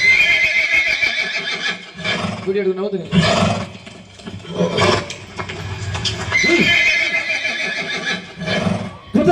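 A horse neighs loudly several times amid a dense crowd of thousands at a Karuppasamy festival, with people talking and shouting close by between and over the whinnies.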